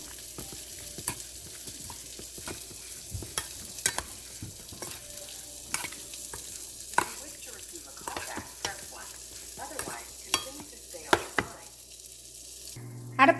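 Prawns being stirred with curry powder in a frying pan, a steady low sizzle broken by repeated scraping and clacking strokes of a spoon against the pan, close and fairly loud, with no talking.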